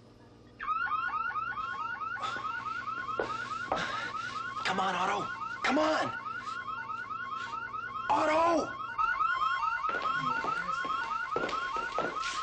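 Office alarm sounding in an 1980s TV series, a loud repeating electronic warble cycling rapidly and continuously, while people call out over it several times.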